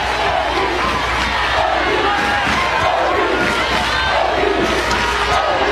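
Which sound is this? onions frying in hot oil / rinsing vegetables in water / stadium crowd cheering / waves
stadium crowd cheering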